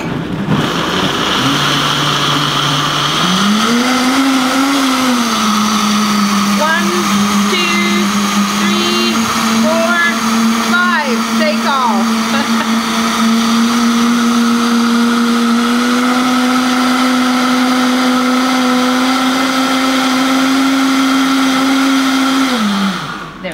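A blender mixes raw milk into chocolate milk, its motor whining loud and steady throughout, rising slightly in pitch as it settles into the blend and stopping at the end, with faint talk underneath.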